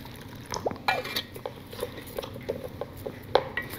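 Water poured and stirred into a pot to dissolve palm sugar candy, with light liquid trickles, drips and small clinks of a utensil against metal, close and fairly quiet.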